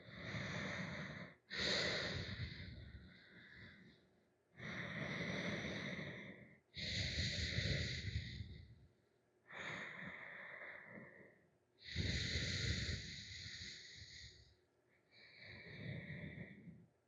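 Slow, audible breaths drawn in and let out during a full-body yoga flexibility stretch, six or seven long airy exhales and inhales close up and fairly quiet, evenly spaced with no talking.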